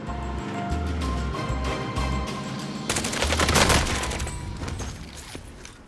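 Rapid automatic gunfire in the battle royale game Warzone, first bursts of close shots over a thumping game soundtrack, then a louder sustained fusillade midway.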